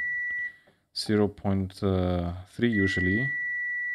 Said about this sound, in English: So sorry for all the beeping